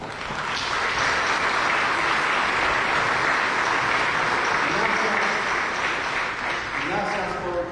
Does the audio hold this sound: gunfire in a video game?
no